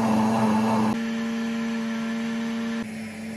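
Household high-speed blender running under a noise-reduction cover, a steady mechanical hum with a tonal whine that shifts in pitch twice as the motor speed changes, moderately loud and close.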